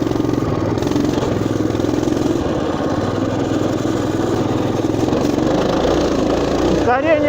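Motoland RT200 pit bike engine droning steadily while riding over unfamiliar dirt ground, loud and close and unbroken, with a voice over it near the end.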